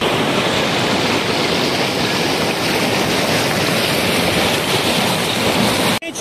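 Waterfall on the Rio Azul at a bathing spot, a steady loud broadband rush of falling water filling the scene without pause, cut off abruptly near the end.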